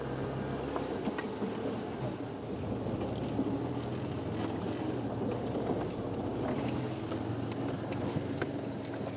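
A safari vehicle's engine runs continuously on a sunrise drive through the Manyaleti bush, a steady low rumble mixed with wind buffeting the microphone.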